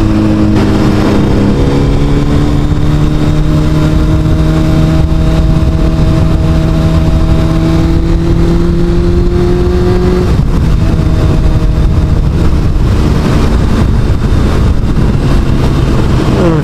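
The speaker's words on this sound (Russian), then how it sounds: "выехали продубасить на мотик и вечерочком" A motorcycle rides out along a busy, dangerous Moscow highway in the evening, its engine holding a steady close drone that climbs in pitch, then drops at about ten seconds and carries on rougher under wind.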